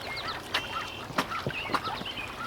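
Ducks kept on a heavily mulched garden property give faint, scattered quacks and calls at a distance over quiet outdoor background.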